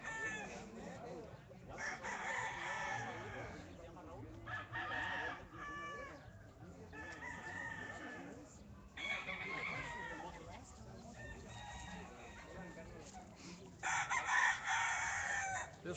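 A rooster crows repeatedly at close range, strained cock-a-doodle-doo calls recurring every few seconds amid clucking fowl, with someone talking faintly underneath.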